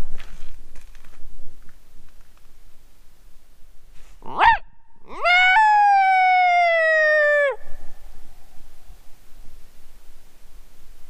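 A couple of short yips, then a rising coyote howl call that holds a long steady wail before dropping off, loud and alone against near silence, in the late evening while turkey hunting.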